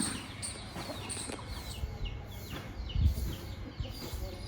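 An American-breed fighting rooster, a gamecock raised for cockfights, gives short soft clucks and calls scattered across a few seconds, fairly faint against light background noise.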